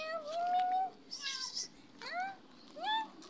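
A cat meows several times in a garden, short rising and falling calls with gaps between them, fairly soft and close.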